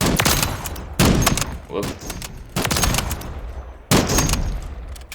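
Mark 20 rifle firing explosive rounds in Call of Duty Modern Warfare, several loud bursts of gunfire in separate volleys with sharp blasts, a brief voice exclaiming between them.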